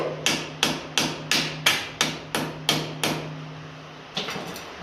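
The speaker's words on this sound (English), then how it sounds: "give it a few taps with the plastic hammer, try and crack a bit of rust" A plastic hammer taps a rusty stud on a 1957 Ferguson FE35 TVO tractor cylinder head: eight sharp, evenly spaced taps, each a quick knock with a brief metallic decay, then a pause and one softer tap near the end.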